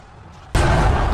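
Film bombardment from a basilica cannon and trebuchets, a quiet rumble broken by a sudden, loud blast that continues as a sustained roaring impact.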